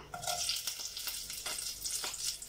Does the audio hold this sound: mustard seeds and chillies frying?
yes